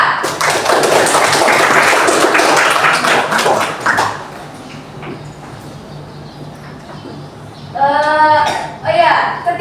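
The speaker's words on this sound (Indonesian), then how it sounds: "Tepuk tangan buat Syafa" Children in a classroom clap together in a brisk burst of applause for about four seconds, close and lively, before it stops and a voice talks over quieter room sounds.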